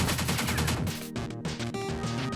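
Rapid, dense gunfire from the twin-stick shooter game Pineapple Smash Crew rattles on continuously, loud and layered with blasts, with a brief dip midway.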